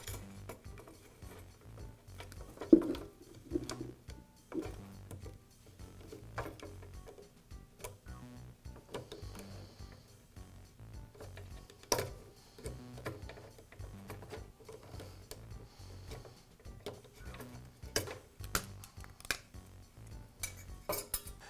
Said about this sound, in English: I'll use a pair of needle nose pliers to release the clips from the old housings